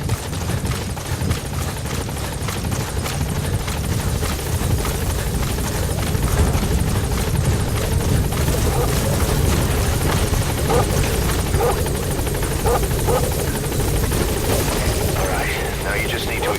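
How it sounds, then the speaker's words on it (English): A support helicopter arrives at a landing zone in Metal Gear Solid 5: The Phantom Pain, its rotor thumping loudly and steadily throughout with game background noise mixed in. "Support helicopter has arrived"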